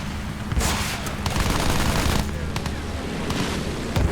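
Gunfire in the video game Battlefield 1 rattles in dense, continuous bursts with sharper individual shots and blasts on top, loud and close throughout.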